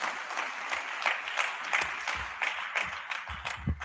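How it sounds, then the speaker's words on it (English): An audience at a fair in Lafia, Nasarawa State claps after a welcome address, a moderate, loose patter of hands that carries on steadily throughout. "Please, can we give her a round of applause again?"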